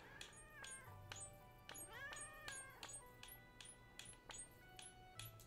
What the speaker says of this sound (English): I do like the happy sounds that the cats make.